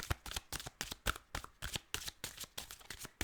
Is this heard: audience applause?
no